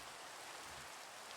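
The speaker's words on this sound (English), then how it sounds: "And it starts raining." Steady rainfall in the Minecraft video game, a dense even hiss of falling rain with no talk over it.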